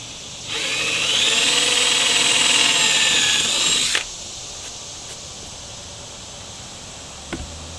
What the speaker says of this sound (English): we're going to drill our other hole